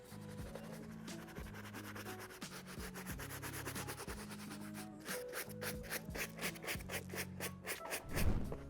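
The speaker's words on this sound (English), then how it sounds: "I'm going to grab the soft brush again and just give it a nice light even pass to prevent any staining like this." Soft bristle brush scrubbing a wet shoe in quick, repeated rubbing strokes, a close and quiet scratchy swish in a steady rhythm, ending with a slightly heavier knock.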